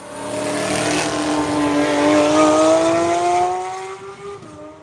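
Several Porsche race cars on a circuit pass close by, engines howling loudly with rising pitch, a steady roar that fades slightly at the end; no talk.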